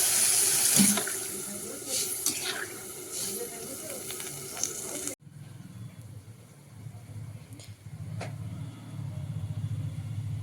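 Water poured into a pan of well-sautéed potatoes for an egg curry makes a steady, bright hissing gush for about five seconds, then fades into a lower, rumbling simmer with a faint clink.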